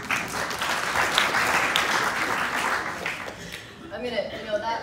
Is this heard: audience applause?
yes